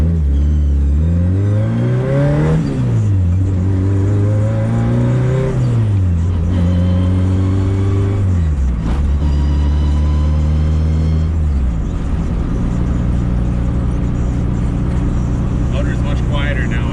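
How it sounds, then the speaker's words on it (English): A high-compression Honda D16Z6 engine, just given a valve lash adjustment, idles and revs repeatedly, its loud pitch climbing and falling in several smooth sweeps before settling into a steady drone, with a voice talking over it. "Motor's much quieter now with that mouth lash."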